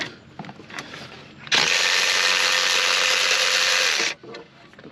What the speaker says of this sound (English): What I really like about the new ratchets that I got from DeWalt